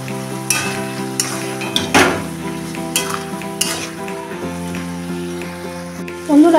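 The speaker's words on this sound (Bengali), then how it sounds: "এবার ভালো করে একটু নাড়িয়ে নেব" A spoon stirs ridge gourd poppy seed curry with Kashmiri red chilli powder and water in a sizzling pan, scraping and clinking in irregular strokes over a constant fry, close and fairly loud, with no talk.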